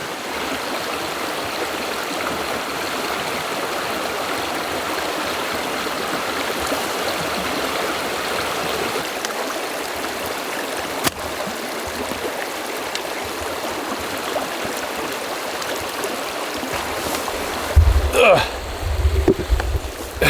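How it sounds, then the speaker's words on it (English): An icy-cold freshwater stream flows steadily beside a rainy campsite, a constant close rushing and trickling with a few brief handling knocks near the end. "The good thing about the stream being here is I don't have to walk as far. Beautiful fresh water."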